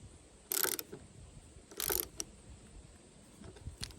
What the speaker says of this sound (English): having a dual action socket wrench